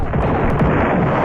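Hellborn cannons firing in the space combat game Star Control 2, a dense, continuous barrage of loud booming blasts with no gaps, close and heavy throughout.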